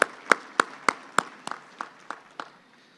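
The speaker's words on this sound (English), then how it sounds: "A big round of applause for those sponsors who help us make the Chamber what it is" Ten sharp, evenly spaced claps, about three per second, fading slightly across the span, from a luncheon audience at a Chamber of Commerce monthly meeting acknowledging sponsors, with no talking.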